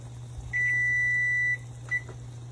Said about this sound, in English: our timer's about to go off